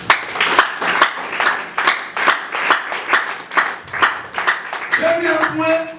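A church congregation claps in a loud, rhythmic beat, sharp hand claps repeating steadily over several seconds, with a sung or spoken voice rising near the end.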